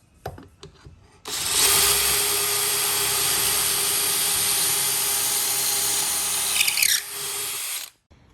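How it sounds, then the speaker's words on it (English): A drill fitted with a pocket screw kit bit bores into a wooden bed-frame board, giving one loud, sustained, close whine and grind for several seconds after a few soft knocks, then a quick wind-down. "You're going to use the special bit that comes with the pocket screw kit, and you're going to go all the way to the end."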